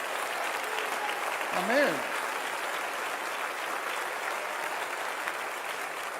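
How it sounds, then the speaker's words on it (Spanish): Church congregation applauding during a Spanish-language Sunday school service, a steady broadband wash of clapping lasting throughout, with a voice calling out briefly over it. "déle ese aplauso fuerte al Señor"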